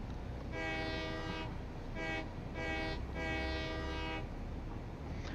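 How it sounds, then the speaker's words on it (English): Three long harmonic toots from a steam train whistle in a factory-building video game, each one sustained and fairly loud over a steady low rumble, with a short gap before the second and a longer final toot. "if you're lucky, you get a steam whistle toot"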